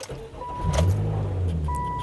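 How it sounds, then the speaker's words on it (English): A car engine cranks and catches, rising into a low rumbling idle close by, with a faint chime sounding inside the car. "we're going to start the engine"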